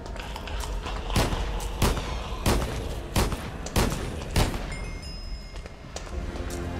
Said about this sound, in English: Time to use that gun.